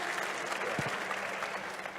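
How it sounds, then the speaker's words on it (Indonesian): Audience applause at a public event, steady dense clapping from a crowd throughout. "Baik, tepuk tangan dulu semuanya."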